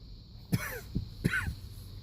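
Two short throaty coughs, close and fairly loud, each followed by a smaller catch of breath, over a quiet background hum.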